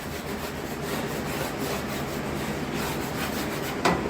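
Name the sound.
wax rubbed onto a hand saw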